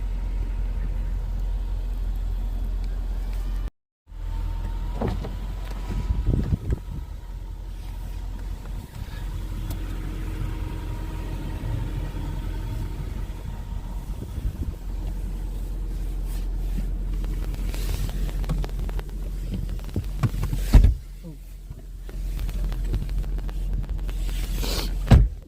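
A Jaguar X-Type Victory Final Edition in Bay Blue cruises along, its engine hum and road noise steady and close inside the cabin, with a short dropout near the start and a brief knock later on.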